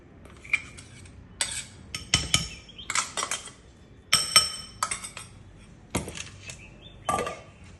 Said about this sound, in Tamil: இப்போ மிக்ஸி ஜார்லேருந்து ஒரு பவுலில் வந்து நான் வந்து மாற்றுறேன்